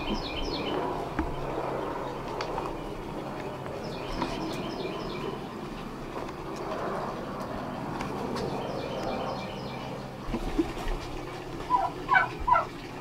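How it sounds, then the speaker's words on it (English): Turkey hens gobble and chatter in bursts over steady outdoor background noise, moderately distant, with a few sharper calls near the end. "it looks like the turkey hens finally went broody"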